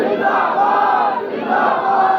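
A large crowd at a religious gathering in honour of Hazrat Abu Bakr Siddiq chants slogans in unison, a loud, sustained massed roar of voices with a rising and falling rhythm.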